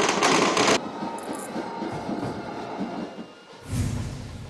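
Fireworks crackle loudly and continuously during a Ganesh immersion procession in Mumbai, with dense crackling bursts that briefly thin out before starting again.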